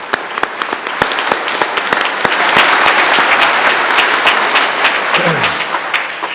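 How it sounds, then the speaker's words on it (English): A crowd applauds at a Veterans Day remembrance ceremony, with loud, sustained clapping made of dense, overlapping claps that swell in the middle and then taper off. "So let's give a round of applause for them."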